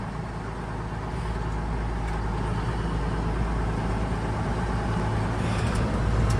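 8070 tractor engine running while pulling two wagons during a corn harvest, a deep, continuous rumbling drone with rough low-end noise that holds steady and slightly builds in loudness.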